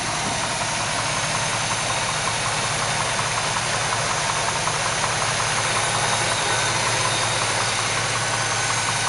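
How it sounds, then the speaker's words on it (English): A 1962 Chevrolet Impala engine idles steadily with a low, even rumble and faint knocking, running alone without any talk. "Let you listen to the motor."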